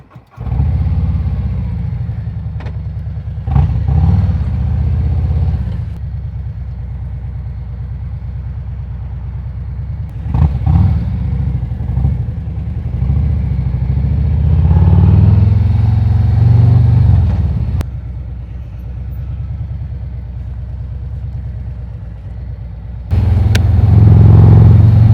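A 2025 Road Glide motorcycle with a 117 engine out on a ride, its steady deep engine drone loud and continuous throughout, swelling as it pulls through gears, with no talk.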